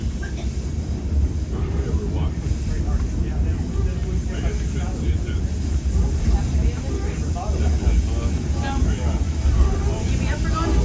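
A White Pass railroad excursion train rumbles steadily along near Skagway with a constant low rolling roar and hiss from inside the car, while a voice talks over it.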